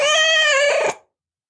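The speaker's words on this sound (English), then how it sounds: "a cat, grey and ugly, jumped up on the counter" A grey cat gives a single loud, close meow that rises and then cuts off sharply, with nothing else around it.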